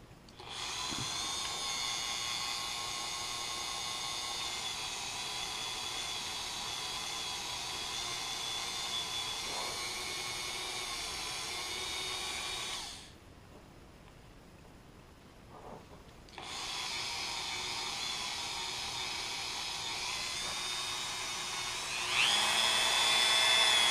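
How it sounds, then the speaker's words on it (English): A Dremel rotary tool polishing a Sig Sauer P320 pistol barrel gives a steady high-pitched whine that runs unbroken, stops briefly near the middle, then resumes and rises slightly toward the end, close and fairly loud with no talking. "So obviously you want to use a low speed on your Dremel."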